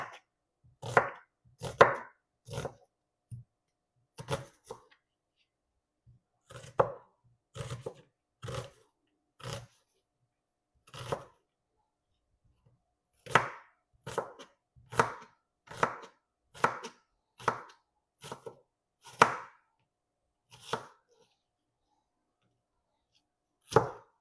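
A knife chops through half an onion on a cutting board, sharp taps coming in irregular bursts and steady runs of strokes, close and fairly loud with short pauses between.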